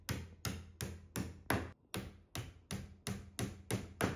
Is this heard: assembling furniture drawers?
yes